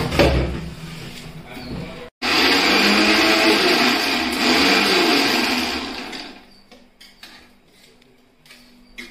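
A mixer grinder whirs loudly as it grinds wood apple into chutney, stopping briefly, then running in a long steady burst that fades to quieter clattering and ticking.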